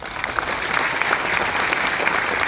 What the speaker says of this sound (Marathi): आणि याच टाळ्या सांगतायत